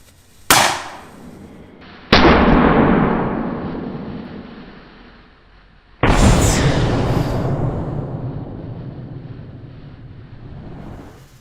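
An air vortex gun fires a smoke bomb, giving a sharp crack and then two loud, booming blasts, each followed by a long roaring decay like wind rushing past the microphone.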